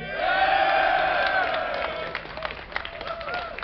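A large audience at a DreamHack 2010 StarCraft II esports event cheers and whoops loudly, with scattered clapping that fades slightly as the roar tapers off.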